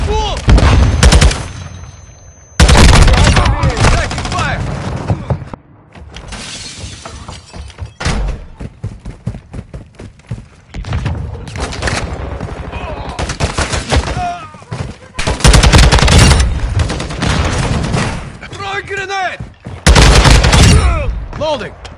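Heavy gunfire in the video game Warzone, loud close bursts of automatic fire and shattering impacts that come in repeated waves across the stretch, with quieter gaps between.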